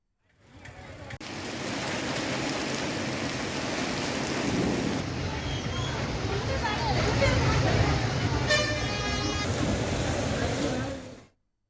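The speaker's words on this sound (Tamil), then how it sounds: "வாழப்பாடி அதன் சுற்றுவட்டார பகுதிகளில் இடியுடன் மிதமான மழை பெய்தது" Heavy rain pours steadily around Vazhapadi with thunder rumbling through it, a dense continuous roar that stays loud from start to finish, with no voices heard.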